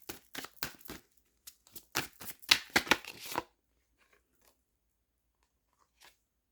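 Tarot cards are shuffled and handled up close, giving a quick run of crisp riffling, flicking and snapping sounds for about three seconds before the room falls nearly silent, with a single faint tap afterward.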